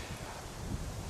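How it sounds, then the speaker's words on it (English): Steady low rumbling wind buffets the microphone throughout, a constant blustery roar with no voices. "It is very, very windy."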